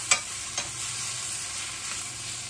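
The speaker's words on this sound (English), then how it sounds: "my onions and my chilies are sauteing really nice" Onions and chilies sautéing in grapeseed oil, producing a steady, bright hiss of frying with a few light stirring taps, close and continuous without talk.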